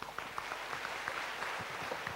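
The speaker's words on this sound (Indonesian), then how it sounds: "Tepuk tangan untuk Anda." Audience applause at a business-school seminar talk, a steady, dense wash of clapping filling the short stretch at moderate level with no voices standing out.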